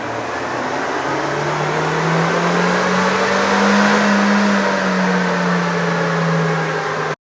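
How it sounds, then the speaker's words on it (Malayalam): Suzuki Jimny with BMC air intake and ECU remap revving on a dyno, a loud sustained engine drone whose pitch climbs and then slowly falls back, close and continuous, then cut off abruptly. "ഒരു ഡൈനോ റൺ ഒന്ന് ചെയ്ത് നോക്കണം"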